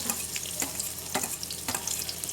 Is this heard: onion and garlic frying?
yes